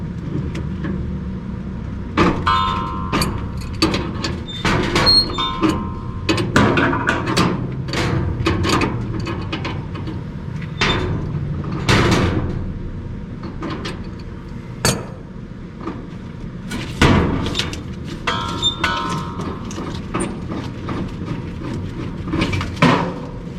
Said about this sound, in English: I'm using an adjustable wrench